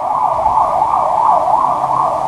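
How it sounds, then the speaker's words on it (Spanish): An ambulance siren wails loud and close, a continuous up-and-down warble repeating steadily with no voices over it. "la ambulancia se metió en mi cuarto"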